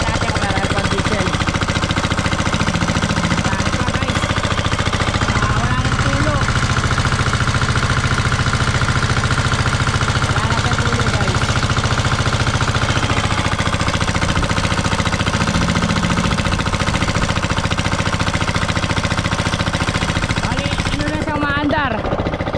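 A diesel engine driving a farm irrigation water pump runs loud and steady out in a rice field, its continuous chugging drone filling the whole stretch with a person talking over it.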